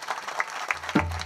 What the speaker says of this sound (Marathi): बघता काय टाळी तर वाजवा एकदा त्यांच्या करता